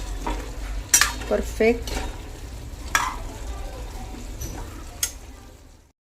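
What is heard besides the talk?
stirring and frying vegetable curry in a pan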